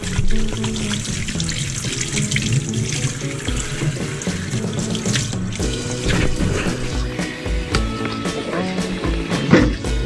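Tap water runs continuously into a sink while an iron utensil is scrubbed, with clinks and knocks of metal over the steady splashing, close and fairly loud.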